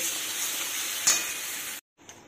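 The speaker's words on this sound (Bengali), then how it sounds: "এই মশলাটা এখন কষিয়ে এর মধ্যে অল্প একটু জল দেব" Spice paste sautéing in a pan makes a close, steady sizzle with a brief scrape partway through, then cuts out suddenly before a fainter sizzle returns.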